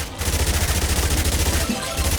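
Floor bombs detonate in a continuous run across the ground in the zombie survival game Yet Another Zombie Survivors, a rapid, steady stream of loud blasts with no voices.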